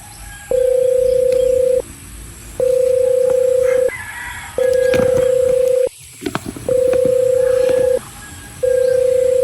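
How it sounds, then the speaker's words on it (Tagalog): A phone rings for an incoming call as five evenly spaced, loud steady electronic tones, each lasting about a second and a half with short gaps between, and a brief rustle partway through. "Teka lang ha, may tumawag sa akin."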